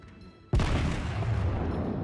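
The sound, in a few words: incoming shell fire in World of Warships video game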